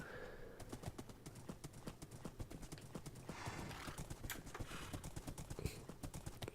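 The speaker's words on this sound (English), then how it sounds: "Wow, this is a fast horse." A horse gallops in the Minecraft video game, its hooves clip-clopping in a rapid, steady rhythm that runs throughout, fairly quiet, with a brief whinny partway through.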